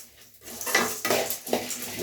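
Twelve dried red chillies stirred and dry-roasted in a pan for a curry leaf podi, a spoon scraping and clinking against the metal in repeated close strokes, with no one talking.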